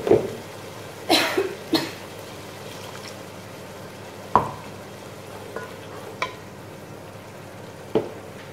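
Mutton stirred and frying in masala, a soft continuous sizzle with several sharp scraping stirs and clatters of a spoon against the pan, close up and without talk.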